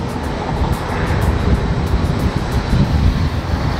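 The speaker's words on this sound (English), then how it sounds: "There he goes, reversing to get the entire length of the runway." Small airplane taxiing backward along the runway at St Maarten's airport, a steady outdoor engine drone mixed with heavy wind buffeting on the microphone and a distant surf-like wash.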